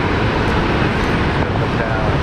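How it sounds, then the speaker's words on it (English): An Alliance Airlines Fokker 100 airliner departing Brisbane Airport, a loud, dense, continuous engine roar with no break, close and steady. "Fokker 100 off to Rocky Rockhampton, Alliance Airlines flight 12:35"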